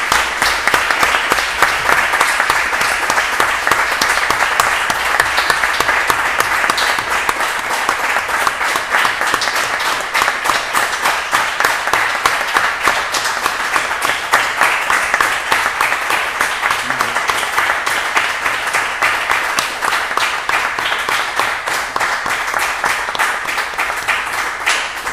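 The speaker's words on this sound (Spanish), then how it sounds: "os pedimos que nos acompañéis en un fuerte aplauso para los dos presentes" A live audience at a comics talk gives sustained, loud applause, steady clapping that fills the whole stretch without breaks, with faint voices buried underneath.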